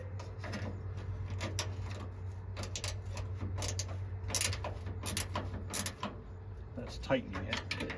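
Metal speed nuts being tightened on a 1964 Chevy Impala under teardown for paint and body work, heard as quick ratcheting clicks and metallic rattles over a low steady hum, with a voice talking.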